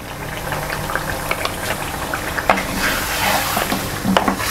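Tomato paste and yogurt hitting roasted spices in a pot of chicken and chickpea curry, frying with a steady close sizzle broken by scattered crackles and spoon scrapes, with no voices.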